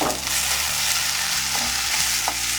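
Ginger garlic paste frying and being stirred in a pan for a besan curry, a steady close sizzle with scraping stirs throughout and no voices.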